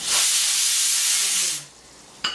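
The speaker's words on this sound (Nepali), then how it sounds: "मेरो यो कुकरमा चाहिँ 1 सिटी लागिसक्यो।" A pressure cooker whistle lets out a loud, close burst of hissing steam that lasts about a second and a half, then stops, while meat head pickle cooks.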